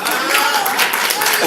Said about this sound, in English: Just give him a round of applause.